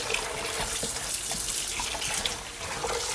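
Water runs steadily from a tap, splashing continuously into a sink close by with no pauses, while raw chicken is rinsed.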